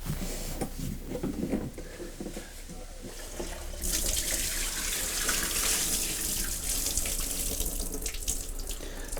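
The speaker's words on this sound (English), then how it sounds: "we're going to empty the tank now, and whatever solution we have left over, we'll put in the sink" Leftover cleaning solution from a Bona Power Scrubber floor machine tank pours into a sink, a steady loud rush of running water that swells partway through and continues to the end.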